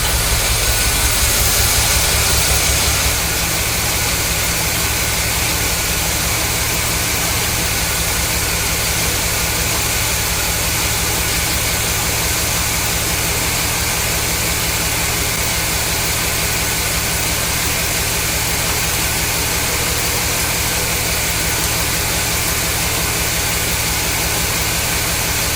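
A 1974 Corvette Stingray engine idles steadily on fresh gasoline, a continuous loud, even rumble with a hiss of air across the whole stretch and no talking.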